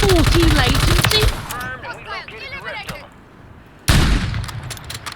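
Gunfire in the video game Warzone 3, with rapid loud bursts of automatic fire at the start and again near the end and a quieter stretch between. Players' voices are mixed in over the shooting.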